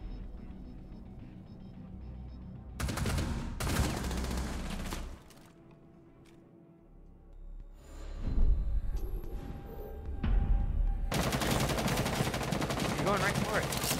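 Gunfire in the video game Rainbow Six Siege, loud bursts of rapid shots in clusters with quieter gaps between them, alongside game sound effects.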